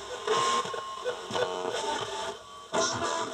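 A Vega Selena B-217 radio picks up an FM station, playing a continuous broadband broadcast with music-like texture at moderate level, pulsing in short bursts with brief dips between them and no talking.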